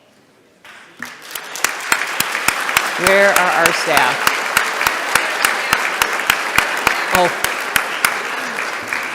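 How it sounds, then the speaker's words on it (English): Audience clapping at a school district CTE and JROTC awards night, with loud, sharp, evenly spaced claps sustained through the clip while a voice speaks briefly over them. "Well, hopefully they heard us clapping for them."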